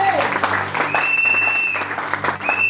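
A church congregation applauds and cheers after a sermon, a dense burst of clapping mixed with voices and whistle-like cries, fairly loud and close.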